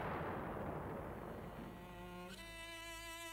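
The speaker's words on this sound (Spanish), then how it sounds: "mientras la llanura hierve de explosiones" A deep artillery blast rumbles out in a Spanish Civil War documentary about Brunete, a single dull boom that fades into a low tone.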